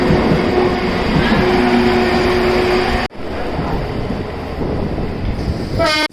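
A suburban electric train runs at Khar station on the Western Railway with a steady loud rumble and hum, a sharp break midway, then a rising rhythmic clatter near the end.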